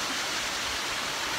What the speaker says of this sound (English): there's a pretty awesome waterfall right up here over this little one